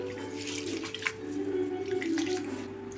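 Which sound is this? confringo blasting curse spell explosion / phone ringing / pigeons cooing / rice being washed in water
rice being washed in water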